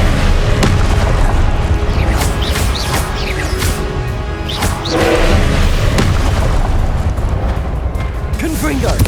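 Repeated Confringo fire spells burst in Hogwarts Legacy during a boss fight against the Pensieve Guardian, producing booming blasts one after another in dense, loud combat with voices shouting throughout.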